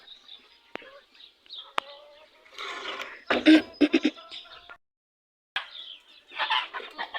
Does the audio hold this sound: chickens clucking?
yes